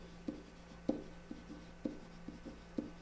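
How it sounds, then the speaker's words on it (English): Pen writing on a paper worksheet: quiet, close scratching strokes with small taps recurring at a steady rhythm for three seconds, over a low constant hum, with no talk. "I'm going to write Erin's newspaper"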